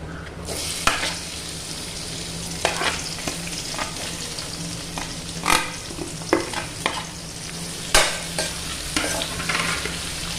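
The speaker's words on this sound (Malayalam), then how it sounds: "ഇതിലേക്ക് നമുക്കിനി സവാളയും കറിവേപ്പിലയും പച്ചമുളകും കൂടെ ചേർത്ത് വഴറ്റാം." Onion, curry leaves and green chillies sizzle over a medium flame in a pan, a steady frying hiss punctuated by irregular scraping and stirring knocks of a spatula, close and with no talking.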